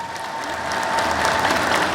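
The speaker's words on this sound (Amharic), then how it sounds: "ናልን የምትሉ በደንብ አጨብጭቡ" A church congregation at an Ethiopian Orthodox sermon claps loudly together, steady dense applause that swells slightly and continues for about two seconds, with no one speaking over it.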